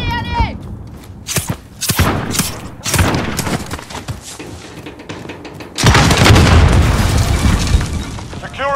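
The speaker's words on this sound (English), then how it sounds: "Throwing grenade." Grenade blast in Battlefield 3 amid a firefight: a series of sharp booms and gunshots, then a heavier sustained rumble of explosion and gunfire toward the end, with radio-style voice callouts mixed in.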